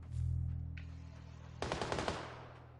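In a PUBG match, a rapid burst of about five or six automatic gunshots cracks out at moderate distance after a low rumble, each report sharp and evenly spaced.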